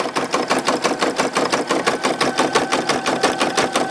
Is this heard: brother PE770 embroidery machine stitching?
yes